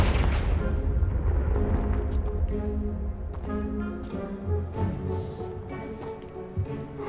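A Confringo blasting spell explosion in the video game Hogwarts Legacy, a heavy low rumbling boom that fades out over several seconds, with scattered debris clatter and small thuds as it settles.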